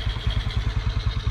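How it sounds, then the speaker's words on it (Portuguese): Motorcycle engine running again after a roadside repair on muddy BR-319 in Brazil, a close, steady idle with even rhythmic pulses and a light clatter throughout. "Agora a moto já funciona."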